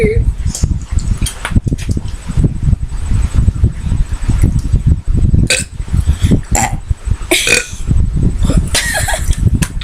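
A girl lets out a string of loud, close burps, some long and croaky, others short, with giggling and chatter from girls mixed in between them.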